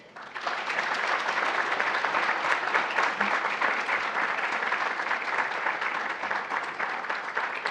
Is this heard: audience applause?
yes